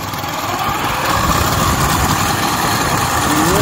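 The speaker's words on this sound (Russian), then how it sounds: "Трактор копает внизу." A tractor engine runs steadily while digging below on an off-road track, a loud, continuous low drone with a rough, vibrating rumble and no pauses.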